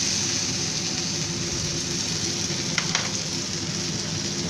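Steak frying in a hot pan gives a steady, dense sizzle throughout, close and even, with a couple of faint crackles and no talking.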